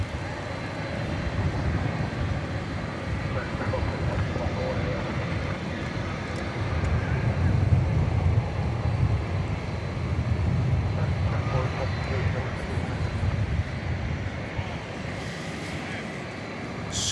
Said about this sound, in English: moving up to the takeoff position here on 18 left. So flight 182 to Istanbul.